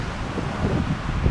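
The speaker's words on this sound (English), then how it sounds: "That's the gusts." Strong gusting wind buffets a sailboat at sea near Mindelo in about 30 knots, a steady roaring rush with low rumble swelling louder toward the end, no voices.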